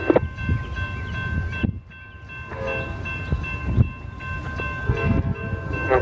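Amtrak passenger train 91 rumbles past accelerating into Plant City, with a steady horn tone, its wheels clattering loudly and close, swelling and easing as it picks up speed.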